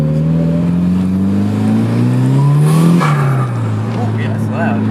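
Mitsubishi Evo 7 with a turbo and pod filter, a loud engine drone climbing in pitch, then a sharp turbo flutter and fall-off as the throttle lifts, close to the mic; people talk over it.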